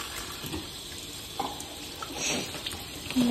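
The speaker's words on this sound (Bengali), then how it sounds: "দেখো এই যে কাকি এখন জল ঢালে" Water poured in a home kitchen, a soft continuous splashing stream with a few small clinks, fairly faint and steady.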